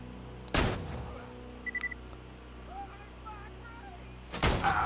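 Two loud, sharp gunshot bursts ring out in Borderlands 2, one near the start and one near the end, with quieter game effects and a few soft beeps between them.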